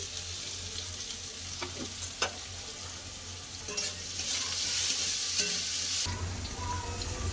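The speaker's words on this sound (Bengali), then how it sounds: "আগে আলুটা একটু ভেজে নেবো পোস্তর জন্য একটু আলুটা আগে ভেজে নেবো" Potatoes frying in a pan with black cumin and green chillies, a steady close sizzle with occasional scraping stirs, swelling louder midway before a low hum takes over.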